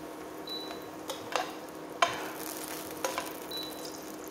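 Vegan butter sizzles in a hot pan with a soft, steady crackle, broken by a few light clicks and taps of utensils against the cookware.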